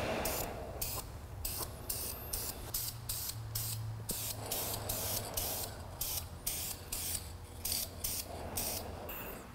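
Aerosol spray paint laying a light top coat on a differential, hissing in rapid short bursts for about ten seconds with a steady background hum and no talking.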